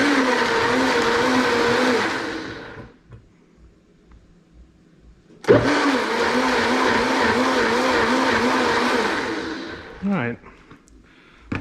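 A kitchen blender pulses tomatillo-style ingredients for pozole verde in two loud bursts of whirring motor, each a couple of seconds or more with a wobbling pitch, separated by a quiet pause and ending with a short extra spurt.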